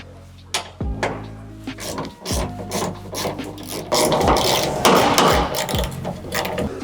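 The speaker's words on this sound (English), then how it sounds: "you'll need a 10mm, and you're just gonna remove this upper bolt and this bottom bolt." A 10mm ratchet works the tail light bolts on a second-generation Toyota Tacoma, making repeated close clicking and rasping strokes in uneven bursts with short pauses between them and no talk.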